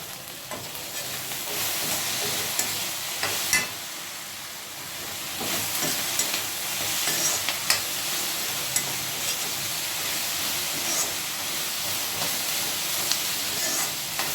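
Okra fries in a pan with a constant, close hissing sizzle, punctuated by repeated scraping and knocking stir strokes at an irregular pace.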